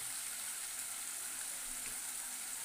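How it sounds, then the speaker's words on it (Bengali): Chicken pieces sautéing in a pan for a chicken and potato curry, giving a steady, close, even sizzle with no breaks and no voices. "এবার চিকেনটা দিয়ে দেবো চিকেনটা একবার সাথে কষে যাবে"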